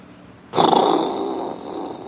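A dog frightened by thunder gives a low, rumbling growl that starts abruptly, holds close and fairly loud for over a second, then slowly fades, with no one talking.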